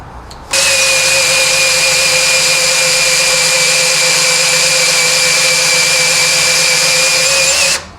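A hole saw bores a 25 mm wooden tenon for rustic furniture, a loud, steady motorized whine that starts abruptly, holds an even pitch for about seven seconds and then cuts off, with no talking.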